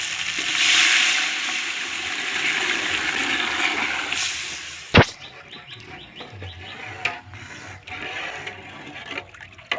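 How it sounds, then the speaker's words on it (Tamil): Water pours steadily into a cooking pot for white murrel fish biryani, a loud rushing splash that ends abruptly, followed by quieter clinks and light kitchen sounds. "இந்த விரால் மீன் வெள்ளை பிரியாணிக்கு தண்ணி சேர்த்துட்டோம்."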